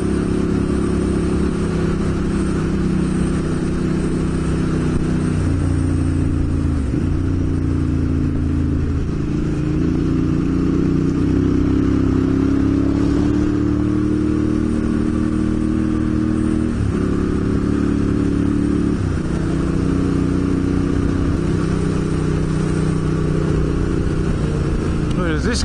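Motorcycles ride on an outback trip between Kingoonya and Lake Gairdner, a loud, steady engine drone that shifts in pitch as the bikes change speed, running without a break throughout.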